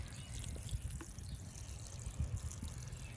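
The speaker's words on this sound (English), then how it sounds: "Just give it a good water. I like to water all the way around because root sprawl." Water poured from a watering can onto the soil around the base of a berry plant, a steady soft trickle and splash at close range with small bumps as the flow shifts around the plant.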